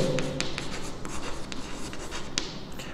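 A pen scratches quickly across paper as dimensions are written out by hand, a string of short faint strokes and taps close by, with no talking.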